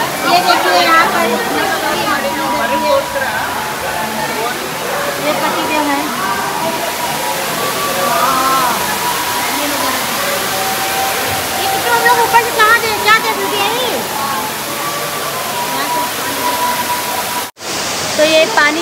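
Water pours down a mountain waterfall in a steady, loud, broadband rush that runs throughout, with people talking over it.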